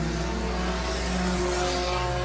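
Sport compact race cars roar back to speed on the green flag restart at Raceway Park (Interstate Speedway), a loud, dense, continuous engine drone with layered revving tones and no break.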